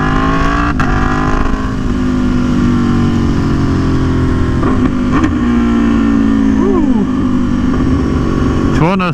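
An Aprilia Tuono V4 1100 Factory motorcycle engine revs hard through rising and falling gear shifts, loud and close, with a continuous rumbling drone throughout.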